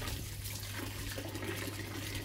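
Running water while chicken is washed, a steady close rushing splash with no pauses, lasting a couple of seconds.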